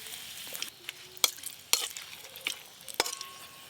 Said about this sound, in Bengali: এবার সর্ষের তেল দেব। ফোড়নে দেব গোটা গরম মশলা আর একটা শুকনো লঙ্কা।